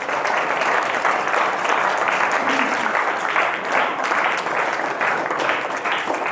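A school audience applauds the winning team of a general knowledge quiz held on Constitution Day. The clapping is dense, loud and continuous and runs the whole time without a break.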